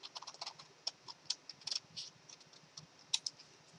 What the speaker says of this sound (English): I'm going to grab my favorite Westcott scissors because I don't use a trimmer for this. I just kind of freehand cut it.